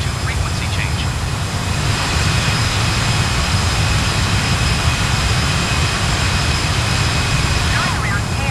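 Airliner jet engines roar steadily at takeoff power in Microsoft Flight Simulator 2020, a loud broadband rush holding for about eight seconds with a faint whine on top and no speech.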